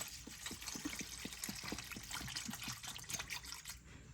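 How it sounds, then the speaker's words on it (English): Evapo-Rust rust remover is poured from a quart jug into a container of prepped RC parts, a steady close liquid trickle with small gurgling splashes throughout, no voices. "let's pour in our solution"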